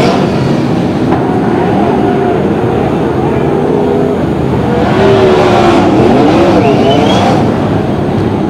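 Sprint-style race cars roar around a dirt track at the Fall Nationals, engines droning loud and steady throughout with a swell of revving passes near the middle, while a race commentator talks over the noise.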